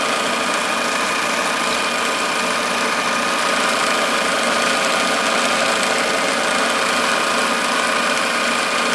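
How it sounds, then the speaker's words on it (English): A 1946 Victor model 40B film projector motor runs steadily for the whole stretch, a loud, even mechanical whir and hum with no break or change in pitch. "the motor sounds okay"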